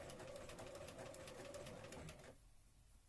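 A sewing machine stitches a Regency dress in quick, even rhythmic pulses for about two seconds, then stops, leaving quiet room tone.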